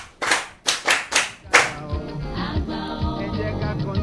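Several sharp hand claps ring out near and loud at an outdoor Yoruba storytelling gathering, about four spaced strikes, before a sustained musical tone takes over.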